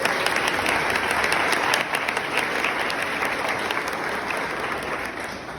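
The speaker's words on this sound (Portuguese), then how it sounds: "Uma salva de palmas" A church congregation at a Catholic parish Mass applauds steadily, a dense, even wash of clapping from many people that holds loud throughout and eases slightly toward the end.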